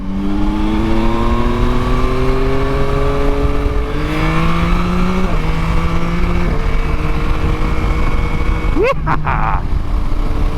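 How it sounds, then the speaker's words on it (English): A Yamaha Tracer 9 GT's triple-cylinder engine, shared with the MT-09, pulls hard and loud from close range, its pitch climbing steadily through several gear changes with a brief sharp blip near the end. "So the engine, of course, in the Tracer 9 GT is that from the MT09. It's a triple cylinder configuration"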